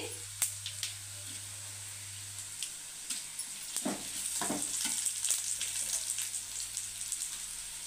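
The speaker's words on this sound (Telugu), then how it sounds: "ఆనియన్స్ కొంచెం లైట్గా ఫ్రై అయిన తర్వాత అందులోకి 4 ఎండుమిర్చి" Onions and four dried red chillies frying in oil in a home kitchen, giving a steady close sizzle with occasional stirring scrapes and clinks that grow busier partway through.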